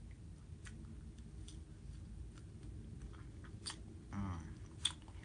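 Frosted Strawberry Milkshake Pop-Tarts being chewed close to the mic, a quiet run of soft crunchy bites with mouth noises and a few small clicks, no talking.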